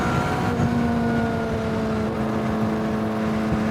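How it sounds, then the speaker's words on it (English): A 2025 Honda CBR600RR cruises in sixth gear at about 100 km/h, its engine a steady, smooth mid-pitched drone mixed with wind rush, loud and close throughout with no speech. "6th gear cruising, 100 kilometers per hour"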